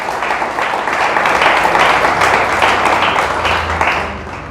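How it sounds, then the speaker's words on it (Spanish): A church congregation claps loudly and continuously during a service, a dense, sustained wave of applause that swells and then tapers off near the end. "Dile fuerte el aplauso, iglesia."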